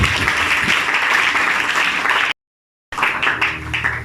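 A church congregation applauds the Lord in loud, dense clapping that breaks off into a brief gap of silence and then resumes.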